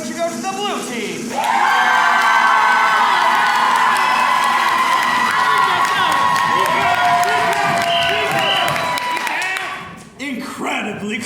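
An improv comedy show crowd votes for the blue team with a loud wall of clapping, cheering and shouts that holds steady for several seconds before dropping off abruptly into scattered noise.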